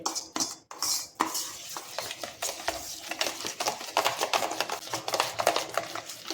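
Spices and oil are stirred into gram flour batter for fulwadi in a bowl, giving rapid, uneven scraping and clinking strokes, close and fairly quiet.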